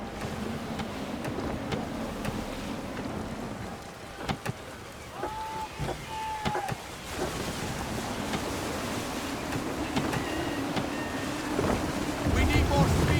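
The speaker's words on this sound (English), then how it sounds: "Wind looks to be shifting. Stay alert, Connor. Gusty winds can be difficult to manage." Gusty wind sweeps across the open sea aboard a sailing ship in Assassin's Creed III Remastered, a steady broadband rush with brief tonal creaks and whistles, swelling louder toward the end.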